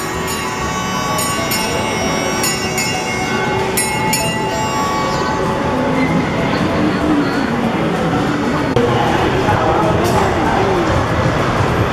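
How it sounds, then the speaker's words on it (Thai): A small ride train at YoYoLand amusement park in Srinakarin, Bangkok, rumbles past with clattering and mechanical noise, a steady crowd murmur and voices throughout. "นี่รถไฟมาแล้วครับ"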